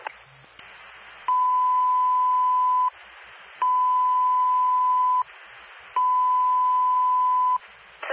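Fire dispatch radio alert tones for a second-alarm fire: three long steady beeps, evenly spaced, each set against a hiss of radio static.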